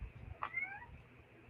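A house cat meows once, a short faint rising call close by, against a quiet room hum with no one talking.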